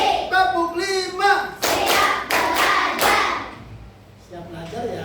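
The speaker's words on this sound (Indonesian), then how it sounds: "Tepuk 5." A classroom of students clapping hands together in a counted clap pattern, several sharp group bursts of claps with a voice speaking before and after them.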